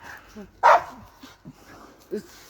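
A single sharp dog bark stands out among faint murmuring voices, followed by a softer yip a moment later.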